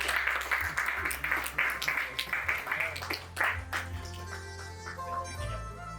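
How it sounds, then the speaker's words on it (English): An audience at a cardiology tribute event claps steadily for several seconds, the sustained patter of many hands filling the room with a low tonal hum beneath it. "A round of applause, ladies and gentlemen."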